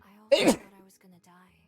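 One sharp, loud close sneeze bursts out between stretches of quiet speech.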